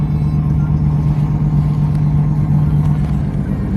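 A BMW 135i with a freshly rebuilt engine runs steadily, a loud constant hum close by as the car gets ready to pull away.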